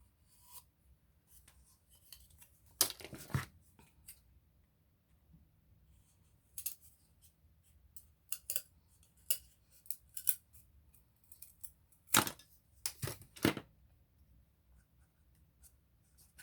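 Material for a Dollar Tree candle holder is cut with scissors, faint scattered snips and scraping strokes with a few louder clustered cuts, no talking.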